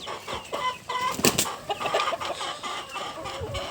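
Farm chickens, including Tiger chickens, cluck and squawk close by in a busy, overlapping chorus of short calls with one sharper outburst, no talk over them.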